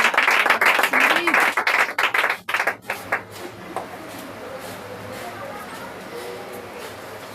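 A church congregation at a Sunday testimony service claps loudly for about three seconds, then the applause thins out into scattered claps and room murmur, with a voice speaking over it.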